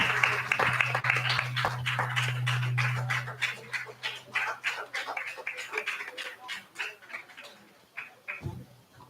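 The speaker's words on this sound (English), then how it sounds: "Big applause to her now" An audience applauds a vocalist at a Navarathri festival event with a burst of many hands clapping that gradually thins to scattered claps, with a low hum in the background.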